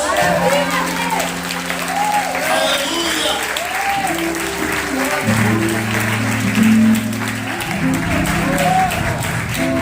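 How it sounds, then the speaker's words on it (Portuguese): A church congregation applauding during a sermon, steady loud clapping that carries on for several seconds beneath a preacher speaking and singing over a sustained organ or keyboard. "Você pode aplaudir Jesus."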